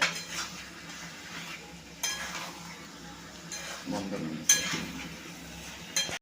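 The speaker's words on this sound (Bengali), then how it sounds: "এই যে একসাথে মাংস আর আলু দিয়ে দিচ্ছি, তারপরে ভালো করে নাড়াচাড়া করতে হবে" Meat and potatoes being stirred together in a pot for chicken kosha, with a spoon scraping and clinking against the metal and a faint sizzle, in several uneven strokes.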